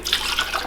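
Broth pours in a short, steady liquid splash into a pot of beef heart stew with thawing vegetables.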